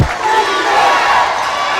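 A basketball crowd at a CBA finals game in San Juan roars and cheers continuously after a big shot, dense and loud throughout with no pause.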